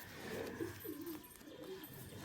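Breeding pigeon pairs coo softly in low, rolling phrases, a few calls repeating close by in a quiet setting.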